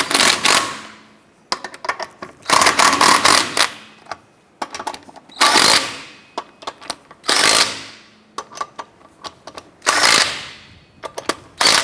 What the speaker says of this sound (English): Once you have your lug nuts on, let's go ahead and snug those down.